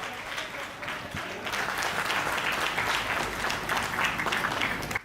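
Live audience at a comedy poetry show applauding laughter champion Vinod Pal, a dense, steady wash of many hands clapping that swells after the first second and holds loud to the end.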